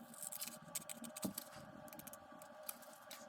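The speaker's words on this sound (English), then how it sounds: "I used to keep this pair of scissors just for this kind of work" A pair of hobby scissors snipping during assembly of a vintage Tamiya 1/10 RC 4x4 buggy re-release kit, with quiet, close, irregular crisp cuts and small handling clicks in a hushed room.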